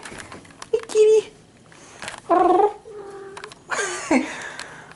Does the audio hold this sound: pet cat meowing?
yes